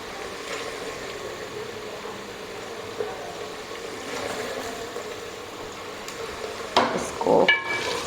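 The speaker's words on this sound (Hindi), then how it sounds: "इसमें मैं डाल दूँगी ये बीफ।" Beef frying with onions in a pan for palak gosht gives a steady, moderate sizzle, joined near the end by a few sharp clinks of a utensil against the pan.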